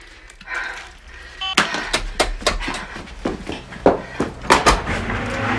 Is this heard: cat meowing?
no